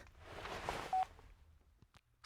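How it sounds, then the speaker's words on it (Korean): Telephone being dialed, a short run of faint dialing tones and keypad beeps over a hushed room, with one brief clear tone standing out near the middle. "치아르, 제발 전화 좀 받아"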